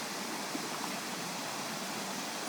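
Rushing water from a waterfall on a hike fills the scene as a dense, constant, loud roar with no breaks and no voices.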